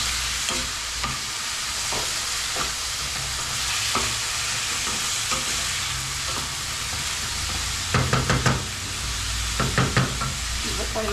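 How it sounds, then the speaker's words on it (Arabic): Onion fries in a pan for mini quiche filling with a steady close sizzle, broken by clusters of utensil knocks and stirring scrapes. "نخليها تقلى مليح مليح"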